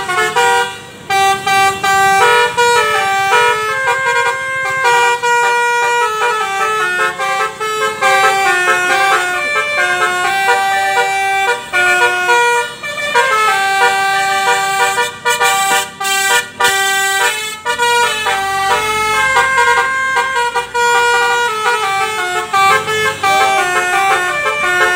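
A loud musical bus air horn, a Basuri horn, plays a long, tuneful melody of sustained notes, blaring continuously and close by with no talking.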